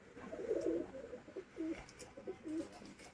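A caged female pigeon from a breeding pair coos in soft, low, throaty bursts, several repeated calls close by over a quiet room background.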